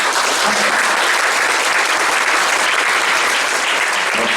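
An audience at a forum in a National Assembly meeting room bursts into loud, dense applause, a continuous roar of many hands clapping close by throughout.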